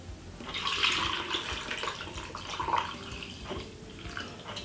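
Water poured into a blender jar over carrot, apple, ginger, lemon and honey for a Jamaican almond punch, a steady close splashing pour lasting a few seconds with no talk.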